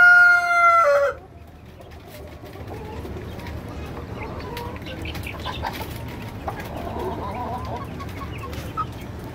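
Brahma chickens and a rooster on a poultry farm, a short loud crow at the start followed by steady clucking and scattered fowl calls throughout.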